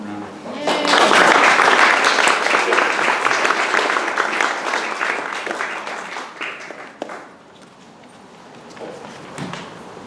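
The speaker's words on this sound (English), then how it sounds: "Please give him a warm round of applause." Loud, dense audience applause at a historical society's annual meeting in Seattle, swelling quickly then thinning out over several seconds, with a few scattered claps near the end.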